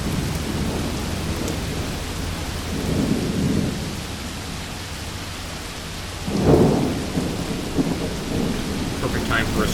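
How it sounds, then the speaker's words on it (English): Thunderstorm in the video game Combat Mission: Black Sea: steady rain hiss throughout with two rolling thunder rumbles, the second sharper and louder, no voices. "Perfect time for a storm to occur."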